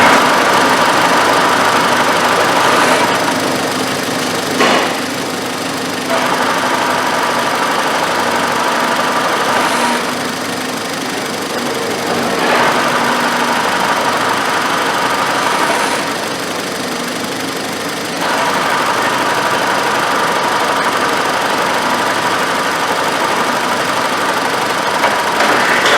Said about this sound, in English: When we released the clutch, obviously the noise went away